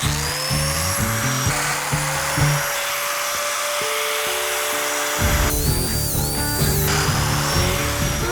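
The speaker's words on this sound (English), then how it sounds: "So I'm gonna break out the domino joiner and we're gonna get these ready for glue." A domino joiner cuts mortises into wooden faux beams, its high motor whine rising and falling through several short plunge cuts under a continuous dust-extractor hiss.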